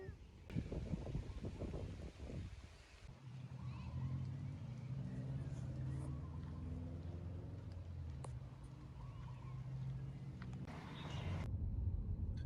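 Traffic on a Hawaii road near Turtle Beach, heard as a low, steady vehicle rumble mixed with wind buffeting the microphone, with a voice speaking briefly at the start.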